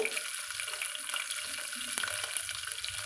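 Whole small onions and slit green chilies fry in hot oil in a pan for fenugreek rice, a continuous close sizzle with bubbling crackles and light stirring, no voice.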